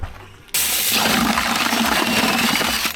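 Leftover concrete poured on site while building a traditional railing, a sudden loud rushing slosh of wet concrete sliding out after a quiet moment, continuing steadily to the end.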